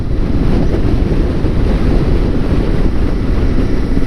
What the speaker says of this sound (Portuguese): E o vento hoje tá especial, né, amor? Muito. Tá bem forte.